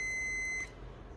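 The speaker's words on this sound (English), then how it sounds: "This gives you a little beep indicator." A single sharp, high electronic beep from a continuity tester holds steady for just over half a second, then cuts off, leaving faint background hum.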